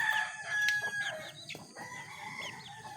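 Pet chickens cluck and a rooster crows at a fair distance, faint and intermittent, in a backyard where a car tire is being changed.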